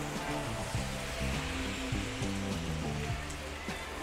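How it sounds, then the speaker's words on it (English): Rain starting to fall during a bike ride through town streets, a dense steady hiss of drops with a low hum underneath, constant and fairly loud with no talking. "It's raining!"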